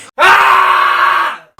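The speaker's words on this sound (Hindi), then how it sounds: "एक बहुत ही तीखी और दरदराती आवाज़ चीखने की बाहर सुनाई दी।" A sharp, harsh scream rings out from inside a forest in a horror story, one loud sustained cry lasting over a second with a rough, grating edge, heard alone.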